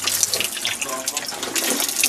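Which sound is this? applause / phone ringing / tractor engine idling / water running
water running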